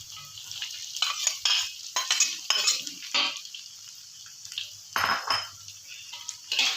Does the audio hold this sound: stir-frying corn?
yes